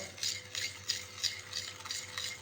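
Donut dough ingredients with sugar being mixed in a bowl, a steady close scraping and swishing with rhythmic strokes roughly every third of a second, continuous and alone.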